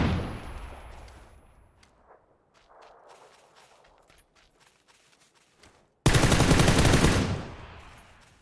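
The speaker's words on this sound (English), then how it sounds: "Bullets." Gunfire in PUBG, a rapid burst of shots that fades out, a quiet gap with faint scattered pops, then a loud, sharp close-range volley of automatic fire.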